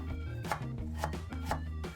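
A knife julienning radish into thin strips on a cutting board gives a close, steady run of crisp chopping taps at a quick, even rhythm.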